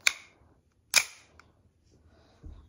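A KWA 1911 green gas blowback airsoft pistol fires with no magazine fitted, giving two sharp, close snaps of the slide cycling about a second apart, then a faint lower clack.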